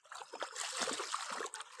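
Floodwater running through a village of mud houses after heavy rain, a faint, uneven trickling and splashing flow with small bursts, quiet and somewhat distant.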